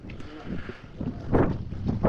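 Wind on Porquerolles buffets the microphone in uneven, rumbling bursts that swell and fade over a couple of seconds, with faint sounds behind it.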